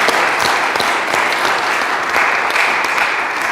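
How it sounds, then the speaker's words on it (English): A church congregation applauds its search committee with loud, continuous, dense clapping throughout, close and full-bodied with scattered sharper hand claps standing out. "round of applause"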